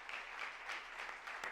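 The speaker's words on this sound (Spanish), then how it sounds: "Un aplauso." Audience applause at a round-table culture event in Andalusia, a brief, faint, steady wash of clapping from a crowd at some distance.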